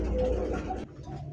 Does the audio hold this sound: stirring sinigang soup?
no